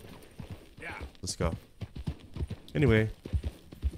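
A horse clip-clops along in Red Dead Redemption 2, its hooves knocking in a quick uneven rhythm beneath someone talking over the game.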